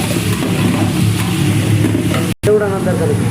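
Onions and tomatoes fry in hot mustard oil in a pan, a loud, close, steady sizzle with stirring scrapes and a momentary cut near the end.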